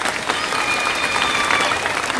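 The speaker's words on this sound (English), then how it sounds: "if you want to give him a nice round of applause" An audience gives a round of applause for Kino, a dense, steady burst of crowd clapping that stays loud the whole time, with faint voices and a thin whistle-like tone mixed in.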